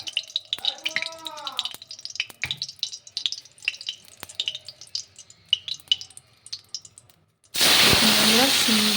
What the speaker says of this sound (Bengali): আমরা শিমগুলো সব দিয়ে দিয়েছি তেলের পরে। এবার একটু নেড়ে চেড়ে ভেজে নেব।